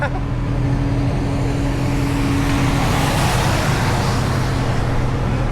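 A motorcycle engine holds a loud, steady, close-up idle roar with a low hum throughout; no talk is heard over it.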